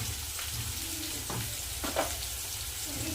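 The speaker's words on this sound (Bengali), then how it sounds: "দিয়ে দেবো সামান্য জল মশলাটা একসাথে ভালো করে কষিয়ে নেব" Ground spices with salt, turmeric, cumin and chili powder sizzle in a pan with a splash of water, a steady close frying hiss broken by a few soft scraping stirs.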